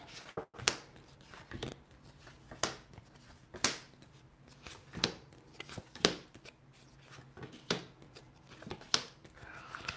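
Tarot cards are laid out one by one on a table for a love reading, giving a series of crisp slaps and swishes spaced about a second apart, close and fairly clear.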